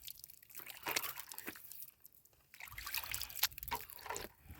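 A small stream of water trickles among rocks in the hills near the Venkatagiri fort, faint and close, with soft dribbling and occasional crunchy rustles in a quiet outdoor setting.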